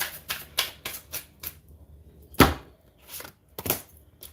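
Tarot cards are shuffled in a series of brisk, close riffles and taps, irregularly spaced with short pauses, with no talking.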